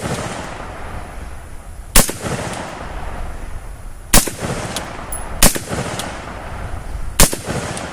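Rapid fire from a Radical Firearms RF-15 AR rifle with M193 ammunition on a range: four sharp, loud shots spaced a couple of seconds apart over steady outdoor background noise, no talking.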